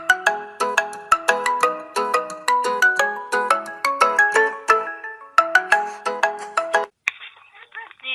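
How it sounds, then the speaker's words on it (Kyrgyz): A telephone rings with a bright melodic ringtone, a loud repeating tune of quick chiming notes that plays close and alone for several seconds before cutting off. "Анан бир маалда эле телефон шыңгырайт."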